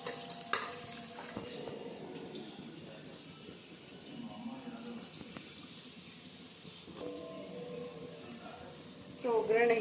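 Chopped onions for a tempering are stirred in hot oil, with a soft continuous sizzle and scraping, plus a brief louder clatter at the close, and no talking heard.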